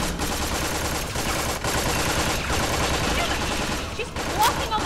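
Rapid bursts of gunfire rattle almost continuously in Tales from the Borderlands, dense and loud, with game dialogue speaking over the shots.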